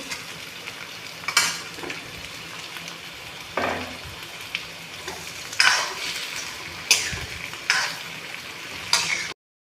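Chopped pointed gourd sizzles in hot mustard oil in a pan, with a steady frying hiss broken by several sharp stirring scrapes and clatters of a utensil against the metal, close and fairly loud.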